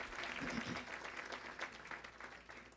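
Steady audience applause fills a community event held by a coalition of South Florida Muslim organizations, a dense, even wash of many hands clapping at a moderate distance from start to finish.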